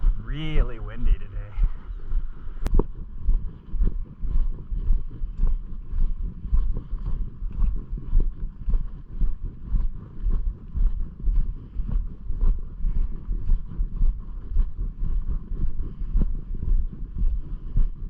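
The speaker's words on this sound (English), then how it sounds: "Really windy today." Strong outdoor wind buffets the microphone in continuous low rumbling gusts throughout, with a person's voice briefly heard at the start.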